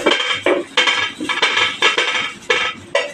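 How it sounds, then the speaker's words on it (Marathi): A ghavan, a Konkan rice crepe, is flipped on a tawa in a home kitchen, giving a rhythmic series of sharp metallic scrapes and clinks from the spatula, about eight strokes in quick succession with no talking. "हा घावन आपण असा इकडे पलटून टाकणार आहोत"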